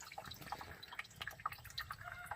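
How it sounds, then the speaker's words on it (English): Water from a sprayer drips and trickles through a red wiggler worm bin. The quiet, irregular patter of small drops and splashes continues throughout, close by and soft, with no talking. "what you just saw me do with that sprayer, putting water in there"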